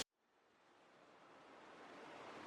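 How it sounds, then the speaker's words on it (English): Ocean water sample, a soft washing surf texture that swells gradually from near silence to a fuller rushing noise, faint and steady with no voices. "which was just some water sounds I found on Splice and dragged them in"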